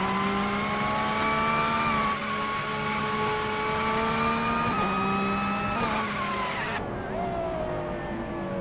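Several race cars, led by a 2009 Pagani Zonda R, launch from the start line on the Alice track in a racing video game, their engines droning loudly and steadily with rising, shifting pitches as they pull away, with no voices heard.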